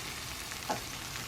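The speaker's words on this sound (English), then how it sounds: "Y'all hear that sizzle?" Crispy chicken wings, coated in baking powder and cooked without oil at 450 degrees, sizzle softly in an air fryer basket with a steady crackling hiss and one brief louder pop.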